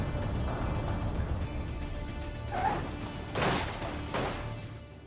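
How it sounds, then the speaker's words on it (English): A Ford Crown Victoria Police Interceptor in the driving game BeamNG slams into something at high speed, giving a few dull crashing thuds and metallic knocks over a steady engine and road rumble. "let's get some high speed going here along the street, and let's have a look at it smashing in slow motion"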